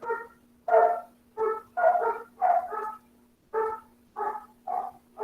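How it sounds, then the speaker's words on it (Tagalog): A dog barks in a steady run of about nine loud, close barks with short gaps between them, alone over a faint low hum. "Ang ingay ng aso."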